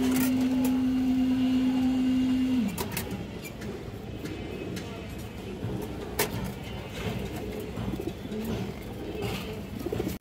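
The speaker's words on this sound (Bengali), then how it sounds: "একটা কালদম নর কবুতর আছে, এটা ঠোঁট কালো কালদম দর্শক।" Kaldam pigeons coo softly amid a busy outdoor pigeon loft, low rolling calls repeating under a general background of faint chirps and a steady tone that cuts off early.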